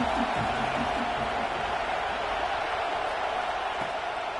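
A steady, loud roar rises from a college football stadium crowd backing the defense on a third down, with a voice briefly audible at the start.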